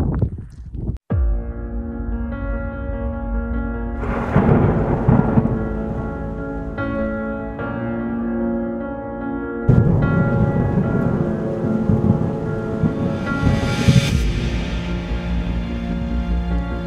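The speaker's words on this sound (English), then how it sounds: "We just had a big old clap of thunder." A thunderstorm over a camper van: a sharp, loud thunderclap opens, followed by long rolling rumbles and steady rain pattering on surfaces, with a second heavy burst of thunder partway through.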